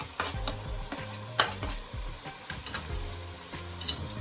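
Peppers sizzling and being stirred in a hot pan while cooking Jamaican ackee and saltfish, a steady frying hiss broken by several scraping stir strokes, close and alone.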